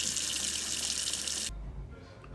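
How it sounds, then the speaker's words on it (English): Cold tap water runs over strained lasagna noodles in a sink, a bright steady splashing stream that cuts off abruptly partway through, leaving a quiet low rumble. "now I'm going to strain them, run some cold water over them, cool them down"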